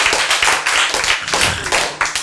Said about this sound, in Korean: 박수! 여러분